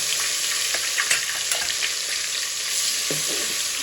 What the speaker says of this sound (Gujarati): તેલ ગરમ થઈ ગયું છે એમાં આપણે એક ચમચી હિંગ નાખશું અને આદુ લસણ ને મરચાંની પેસ્ટ